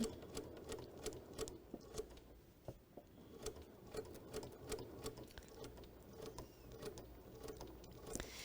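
A sewing machine stitches fabric in a fast, steady, quiet run of rhythmic needle clicks and mechanical whirring, heard alone without talking.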